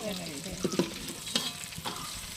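Chicken pieces half-frying in a pan of oil, sizzling steadily up close with intermittent knocks and scrapes of stirring, no voices.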